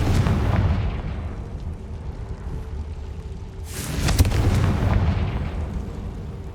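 Confringo fire spell in Hogwarts Legacy: a booming explosive burst with a rushing roar, followed near the end by a second louder blast and rumbling decay, no talk.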